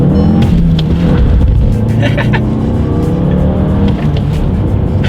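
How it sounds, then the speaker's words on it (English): A 2017 Volkswagen Golf with a turbocharged 4-cylinder accelerates hard from inside the cabin, a steady loud engine drone with rising tones, and a voice briefly talks over it. "let me do a quick little acceleration in the Golf here and see how quickly this turbocharged 4-cylinder can get me up to speed"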